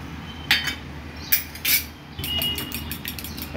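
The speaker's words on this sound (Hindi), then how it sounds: "इसको अच्छे से मिक्स करेंगे।" Egg with salt and pepper whisked in a bowl, giving a few sharp utensil clinks against the bowl followed by a steady soft scraping stir, close and fairly quiet, with no talking.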